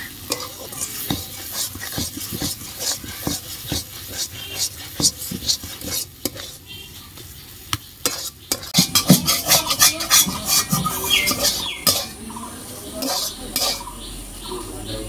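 Spoon stirring and scraping in a frying pan as fried poppy seed and nut powder is mixed into an ol data (elephant foot yam stalk) dish, with continuous sizzling, clinks against the pan and uneven scraping rhythm, close and loud.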